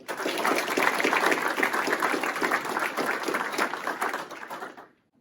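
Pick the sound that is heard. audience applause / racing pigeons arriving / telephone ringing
audience applause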